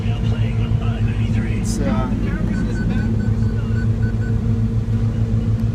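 A Caterpillar 325C excavator's diesel engine runs with a loud, steady low rumble and hum that holds constant throughout, while a person speaks faintly over it.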